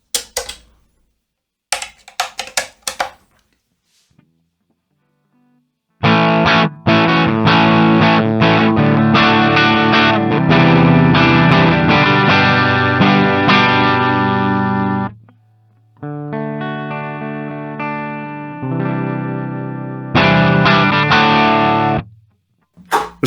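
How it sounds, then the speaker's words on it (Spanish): An electric guitar plays through a Mooer GE150 multi-effects processor. After a few sparse picked notes, loud distorted chords and riffs sound in bursts separated by short pauses. "si le das caña tienes la distorsión"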